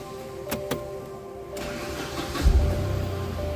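A Tata Nano's engine cranks and starts after a silencer gasket repair, with a couple of sharp clicks, then the starter and a catch into a steady idle with a brief rev, close by.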